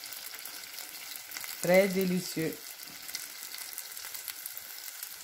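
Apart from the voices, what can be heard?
savory onion and spice beignets frying in oil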